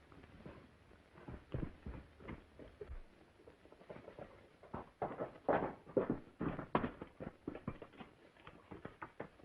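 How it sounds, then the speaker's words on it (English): Hooves clop on hard ground in an uneven rhythm, growing louder as they come closer, with no other sounds. "Someone who rides El Maghrib's horse is approaching."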